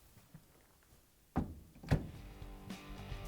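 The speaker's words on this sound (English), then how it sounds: "And now we can close the door." A Samsung dryer door swings shut after a latch replacement, giving a solid thunk followed by a second firmer close, both near and clear against a quiet room.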